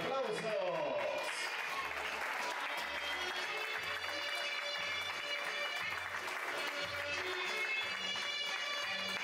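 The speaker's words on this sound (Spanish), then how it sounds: "¡Fuertes los aplausos!" Guests at a quinceañera waltz in a party venue applauding continuously over dance music, a dense steady clapping layered with a melodic track, moderately loud throughout.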